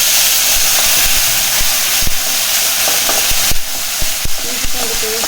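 Ginger-garlic paste sizzling and frying in a pan as the base for a mutton fry, with a steady close hiss and occasional stirring clicks and scrapes throughout, no voices.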